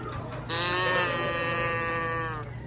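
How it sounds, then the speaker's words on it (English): A toy moo box turned upside down at the Science Behind Pixar exhibit in the Denver Museum of Nature and Science lets out one drawn-out, bleating cow-like moo of about two seconds, clear and close. "That sounds like a cow."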